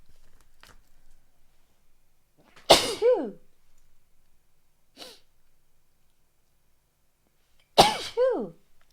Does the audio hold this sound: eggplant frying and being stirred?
no